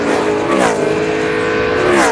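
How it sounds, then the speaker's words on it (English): A race car engine at the 2002 Pennsylvania 500 revs loudly and continuously, rising and falling in pitch as the throttle is blipped to match revs on a clutchless downshift. "A little burp on the accelerator."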